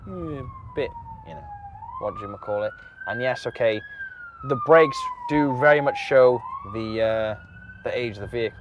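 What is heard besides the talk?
passing police car siren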